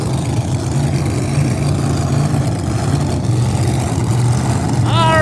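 The Smokey's Garage Pro Mod drag race car runs at Empire Dragway during Northeast Outlaw Pro Mod qualifying, a steady, distant engine drone under background voices, with a brief rising whistle near the end.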